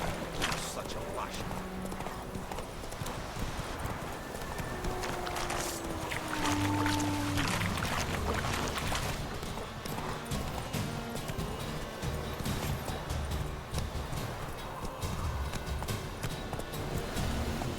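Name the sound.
hooves of the horse Roach, from video game Witcher 3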